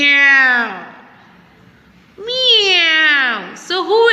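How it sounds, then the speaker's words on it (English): A cat meows three times, clear and close: two long drawn-out cries, then a shorter, broken one. "Yes, it's a cat."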